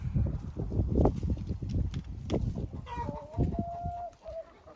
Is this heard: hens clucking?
yes